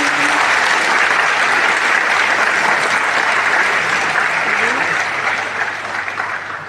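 Large audience at a Sathyabama Institute of Science and Technology celebration applauding, dense sustained clapping from a big crowd in a hall that tapers off slightly at the end.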